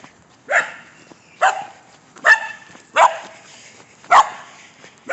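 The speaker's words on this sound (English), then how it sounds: "Oh, and there's a dog barking at me." A dog barks about six times at a steady, unhurried pace, each bark sharp and fairly close, with near silence between them.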